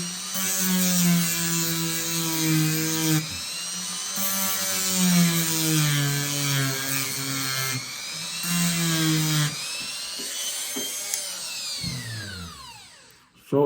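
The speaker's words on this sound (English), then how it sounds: "file that down a little bit." A small rotary tool grinds down a pin while replacing the scales on a CV Heljestrand Nr:6 straight razor. It comes in several whining bursts with the pitch sliding as the load changes, then spins down at the end.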